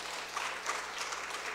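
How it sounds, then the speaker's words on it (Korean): Steady applause from a church congregation filling the room during a worship service, a continuous patter of many hands clapping at moderate volume with no talking. "우리 박수 한번 해주십시오."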